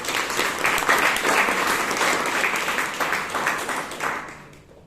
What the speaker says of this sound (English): Can you have a round of applause for the table topic?